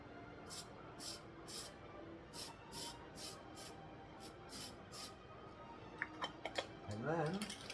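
Short repeated hisses of a spray can coating a Polar Lights 1/1000 scale plastic model of the original-series USS Enterprise, roughly a dozen quick bursts at a steady rhythm, followed by faint clicks and a brief voice at the end.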